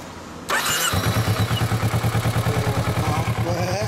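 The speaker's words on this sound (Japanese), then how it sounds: "エンジンちょっと起動してもらえますか。" A 2014 Kawasaki Ninja 400 motorcycle engine cranks and fires up, then settles into a loud, throbbing idle with a steady pulsing rhythm, close to the listener.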